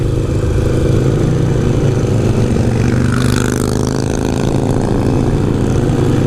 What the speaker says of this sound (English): You got Ron, Chopper Ron, right in front of me on his Paco framed Evo engine from Harley Davidson chopper.